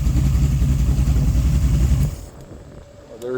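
Mopar small-block 408 engine with Speed Master heads running through open headers in a 1974 Cuda, a loud, close, throbbing idle lasting about two seconds before it cuts off to quiet.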